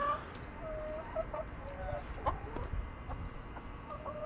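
Chickens cluck softly and intermittently at close range, with scattered short calls over a steady outdoor background.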